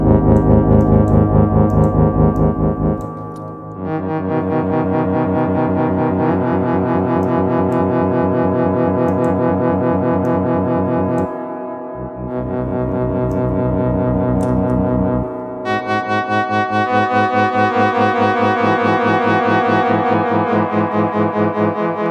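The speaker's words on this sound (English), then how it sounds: "Very quick" A synthesizer plays sustained chords drenched in a short reverb, with rich harmonic layers that shift at a few chord changes over about twenty seconds and no voices.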